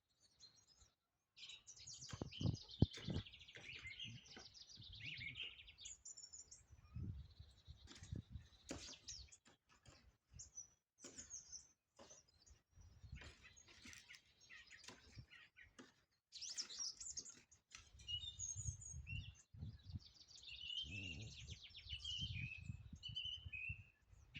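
Several birds sing and chirp in the Carpathian mountains in March, bright twittering phrases scattered over about twenty-five seconds, fairly faint and distant, with low rustling and handling noise underneath.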